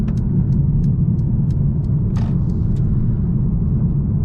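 A 2021 Mercedes-AMG A 35 set to Sport Plus drives along, its steady engine and road rumble loud and continuous from the cabin, with a few faint light clicks over the top.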